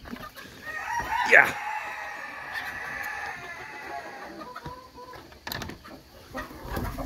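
Silkie chickens clucking and a rooster crowing nearby in a backyard flock, fairly faint, with a person briefly talking.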